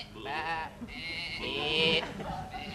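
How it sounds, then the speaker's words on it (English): Sheep bleating in a comedy sketch, a few wavering nasal bleats close by, with faint background noise between calls. "No, that's definitely a sheep."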